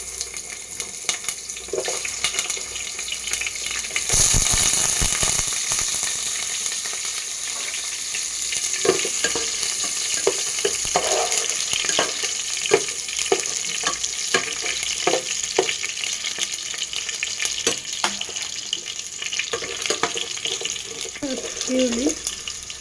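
Mutton marrow bones fry in a pan for curry, giving a steady loud sizzle with occasional stirring clatter and spatters throughout.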